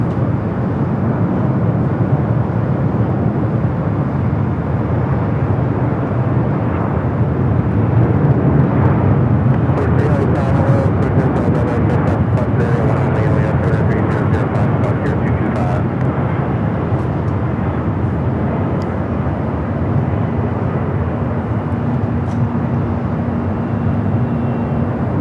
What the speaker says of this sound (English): Flight coming in from JFK